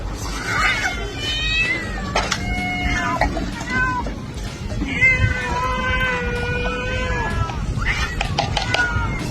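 Several hungry cats meow insistently over cat food, overlapping drawn-out and rising cries close by, with rustling and a voice talking in the background.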